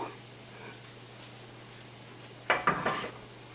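Meat is scooped into a casserole pan in a quiet kitchen: after a low hum, a short cluster of three or four clattering scrapes and knocks from utensil against pan comes close up near the end.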